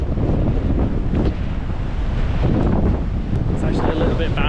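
Strong wind gusting across the microphone at a swaying suspension bridge on a snowy, rainy New Zealand walking track, a loud continuous low roar throughout.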